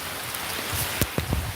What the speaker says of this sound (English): It wasn't meant to be raining at this time.